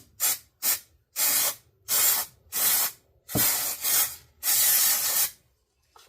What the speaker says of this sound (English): Oh, you know what I didn't do? I didn't spray my mold.